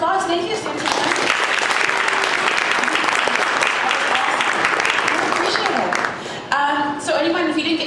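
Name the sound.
audience applause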